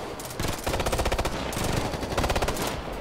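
Rapid automatic gunfire in the video game Ghost Recon Future Soldier, sustained bursts of machine-gun fire crackling in two main volleys with a short lull between, loud and close.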